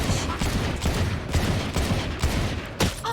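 Dense rapid gunfire from the video game Valorant fills the whole stretch as a loud, continuous fusillade with sharp repeated bursts.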